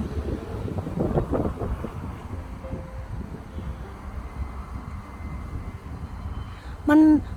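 Strong wind buffets the microphone outdoors in Coventry beside a wild plum tree, a continuous rushing roar that swells and eases, with a short voiced sound near the end.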